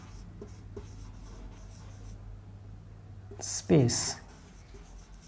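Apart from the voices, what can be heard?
writing a function name by hand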